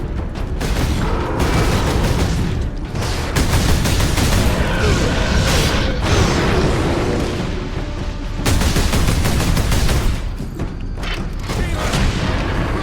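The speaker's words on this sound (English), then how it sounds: "the grenade actually worked" A grenade exploding in Warhammer 40K Space Marine against fire demons, buried in continuous loud combat din with bursts of gunfire and booms throughout, no clear single blast standing apart.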